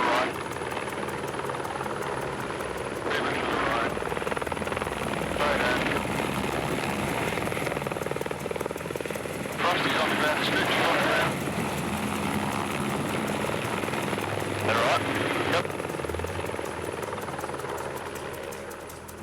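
Loud, steady helicopter rotor wash roaring throughout during a mountain rescue of a fallen climber in extreme wind, a continuous blasting thrum with periodic surges of windy noise, voices faintly mixed in.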